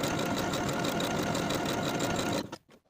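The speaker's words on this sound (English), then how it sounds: "sewing that side seam with a 5/8 inch seam allowance and a stretch stitch" A sewing machine running a stretch stitch along a swimsuit lining side seam, a fast even mechanical whir close by that runs steadily, then stops abruptly near the end.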